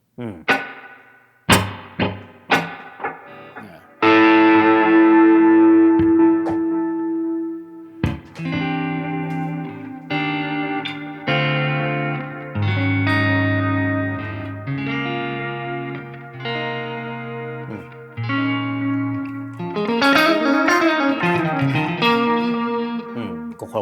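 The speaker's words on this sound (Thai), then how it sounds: "นี่ถ้าเราจะเพิ่มพวกดีเลย์ก็หมุนเอาเลยนะ" Electric guitar played through a Line 6 Helix effects unit with delay added, ringing sustained notes and chords with echoing tails, loud and close, starting with a few plucked strums.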